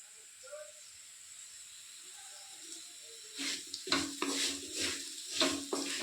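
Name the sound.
potato fingers frying on the stove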